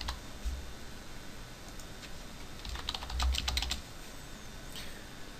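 Keys clatter on a computer keyboard while text is entered into a help-text field of a new form, a quiet sparse run of taps that thickens into a brief burst of rapid clicking midway.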